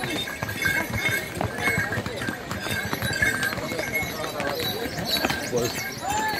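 Horse hooves clip-clop on the Kedarnath pilgrimage trail in the Himalayas, a busy, continuous mountain path with steady hoofbeats among crowd noise and people talking.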